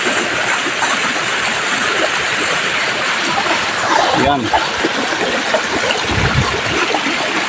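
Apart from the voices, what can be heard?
water gushing from burst pipe elbow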